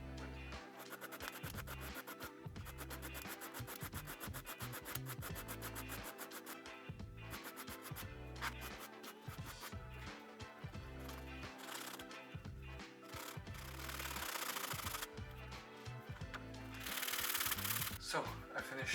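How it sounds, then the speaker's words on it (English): A wooden piece is sanded by hand with steady back-and-forth rasping strokes, close and continuous, some strokes longer and louder near the end. "I'm going to sand the outer layer, the inner side, so it is flattened out with the other wind."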